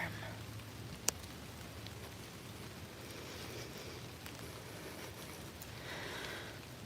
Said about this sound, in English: being in kind of a overgrown cemetery in the middle of the deep piney woods in the middle of a rainstorm